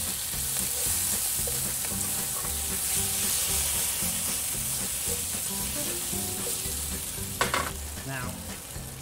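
Tomatoes with sugar and salt frying in a pan, a steady close sizzle with faint stirring scrapes throughout and a brief sharp clatter near the end.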